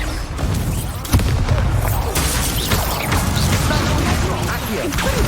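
Confringo fire spell blasts in Hogwarts Legacy: a sharp booming hit opens a dense, crackling, rumbling barrage that keeps roaring without a break, with no voices over it.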